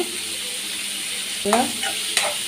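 Curry leaves and asafoetida powder hit hot oil in a pan for a Tamil kara kulambu with bitter gourd, giving a steady soft sizzle with a few brief bursts of crackling and stirring, heard alone.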